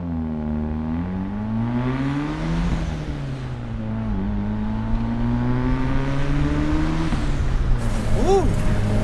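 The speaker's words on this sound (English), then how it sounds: "The turbo sounds, baby." A 1972 BMW 2002 Turbo fitted with an M42 engine, about 350 wheel horsepower, revs and pulls hard through the gears, its engine note climbing, dropping at each shift and climbing again, loud and close, with a high turbo whistle near the end.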